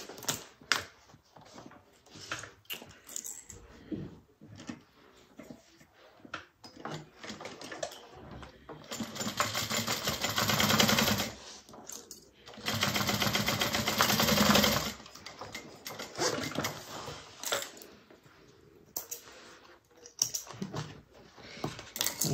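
A sewing machine runs in two sustained bursts while top stitching through the base of a handmade Joseph bag, with quieter handling clicks and fabric movement before and between the runs.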